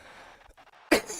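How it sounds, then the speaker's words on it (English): A single short cough bursts out abruptly after a quiet moment, close and sharp, from someone commentating a WWE 2K22 game. "sorry for the coughing"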